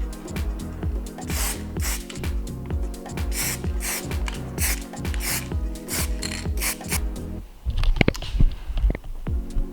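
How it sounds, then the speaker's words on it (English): Rags soaked in Prepsol wipe back and forth across a Triumph motorcycle fuel tank, a rhythmic series of close, scratchy rubbing strokes that turn into looser, irregular scrubbing near the end. "we'll just get some rags and some Prepsol and we'll just give it a clean that way"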